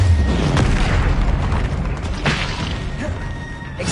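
The Incendio fire spell is cast in the game Hogwarts Legacy: a loud, booming fiery blast with crackling, crashing bursts that rumbles on densely through the whole stretch, with no talk.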